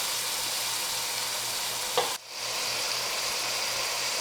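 Mutton sizzles steadily as it fries in a pot for a spiced yakhni pulao, a dense continuous crackle with a brief stir or clatter midway and a short dip before the frying resumes.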